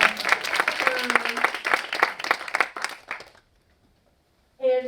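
Audience applause in a university lecture hall event, a dense burst of clapping lasting about three seconds before fading into silence, after which a voice begins.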